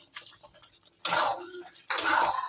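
Paneer cubes added to a hot pan of palak, giving two bursts of close sizzling and clattering against the cookware, separated by a brief lull.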